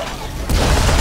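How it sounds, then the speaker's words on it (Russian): A mine exploding in Dead Space 3, a dull boom bursting in halfway through after a quieter rumbling lead-in, then a loud, dense roar of blast noise that carries on to the end, close and heavy with no speech. "Долго взрываются, честно, эти мины."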